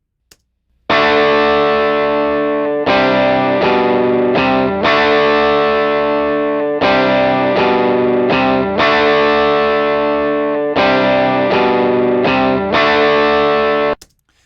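A Fender Stratocaster through a Wampler Moxie drive pedal set to classic mode plays a loud, crunchy overdriven loop of sustained chords, repeated in a steady pattern with short gaps, with no talking.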